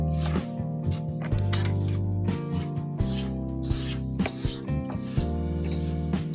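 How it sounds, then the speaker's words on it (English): A spatula scrapes down the sides of a mixing bowl of lemon cake batter, with rhythmic rubbing strokes over a steady, humming drone. "all you want to do is scrape down the sides of your bowl"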